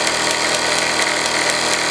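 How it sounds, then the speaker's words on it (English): A Meccano MEC1 steam engine drives model workshop hammers through a pulley, making a steady, close mechanical whirring and clatter that runs without a break and with no voices. "the one with a smaller flywheel, obviously running"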